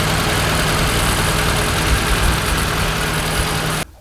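Suzuki Samurai engine running steadily with its radiator fan spinning, a loud, close, continuous idling drone and whoosh that cuts off abruptly near the end.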